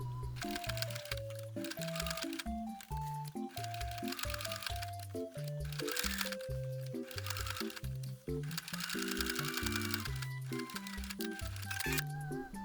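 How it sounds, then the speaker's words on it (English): A sewing machine stitches pockets onto an apron for a costume, with a sustained mechanical whir and rhythmic stitching throughout, heard under background music. "Now these cute little pockets are going to get sewn directly to the apron."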